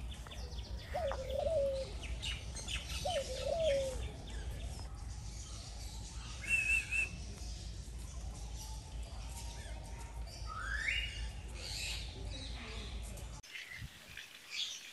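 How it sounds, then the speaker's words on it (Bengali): Birds in the aviary at Dhaka zoo give a few faint, brief chirps and calls, spread apart over a quiet, low background hum. "যেখানে হচ্ছে পাখিদের কিচিরমিচির, পাখিদের আওয়াজ"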